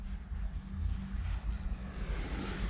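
Small E-flite Commander mPd 1.4m aerobatic RC plane taking off with full flaps from pavement near trees, its electric motor and propeller droning steadily throughout, with wind noise across the microphone.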